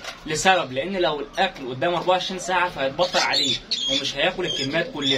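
Hungry pigeons with squabs in a balcony loft squawk and coo in rapid, overlapping bursts close by, while someone talks continuously over them.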